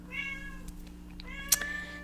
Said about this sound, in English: you can hear my cat meowing in the background